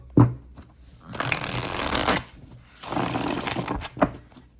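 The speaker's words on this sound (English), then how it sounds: "Beautiful shuffle." Halloween Tarot cards with bordered, ungilded edges being riffle-shuffled, a bit stiff since they are new: two long papery riffling bursts, each ending in a soft tap as the deck is squared, close and clear.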